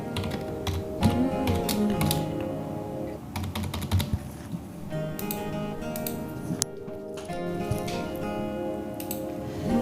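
Someone types a password on a computer keyboard, producing a steady, dense run of close key clicks and taps that continues without pause and with no voices.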